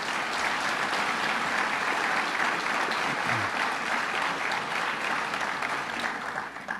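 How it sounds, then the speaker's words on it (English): An audience at a state budget address in Nassau County claps in a steady, fairly loud round of applause that runs for several seconds with no speech over it. "Let's give him a round of applause."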